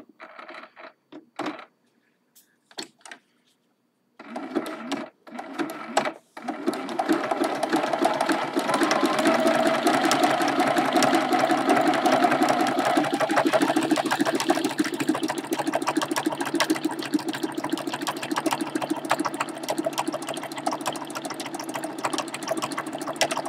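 A sewing machine runs a zigzag stitch while quilting a mug rug: a few short stop-start bursts at first, then a long, even, fast-chattering whir that carries on loudly to the end.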